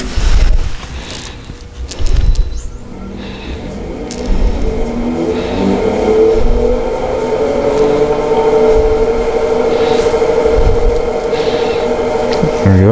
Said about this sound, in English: I'm going to turn the lathe on, bring it up to speed, and just see how it balances on there.